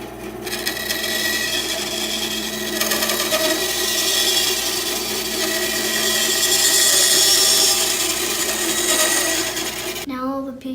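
A power tool cuts wood pieces for a bird house with a loud, steady, close whine for about ten seconds, swelling slightly before it cuts off abruptly.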